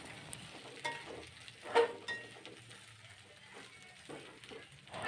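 Ground peanuts are stirred in a pan of frying spice paste, a faint soft sizzle broken by occasional scrapes and knocks of the spoon against the pan, quiet and close.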